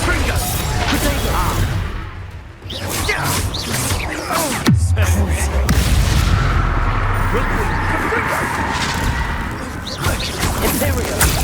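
Spell explosions and blasts from the Hogwarts Legacy video game, with repeated booming impacts and crackling bursts over dense in-game combat noise and music, including one heavy low thump midway, loud throughout.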